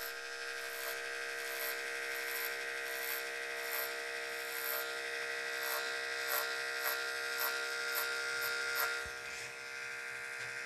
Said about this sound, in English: nice and slow, and let the clipper work